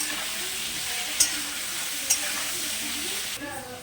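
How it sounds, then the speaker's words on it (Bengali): Potato pieces fry in a pan with salt and turmeric, giving a steady, even sizzle. Two sharp clicks of a spoon against the pan stand out above it. No one speaks. "ভালো করে আলুটাকে আগে ভেজে নেব।"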